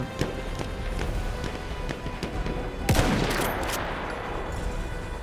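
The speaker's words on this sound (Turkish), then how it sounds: "Ben az önce tanka sıktım bu arada." Battlefield 1 match with rapid game gunfire, as scattered sharp shots and bursts crackle against a busy battle background, with a louder blast near the middle.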